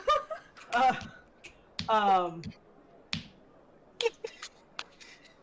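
Several sharp finger snaps spaced irregularly, each a crisp click, mixed with brief bursts of voiced sound like muffled vocal noises between them.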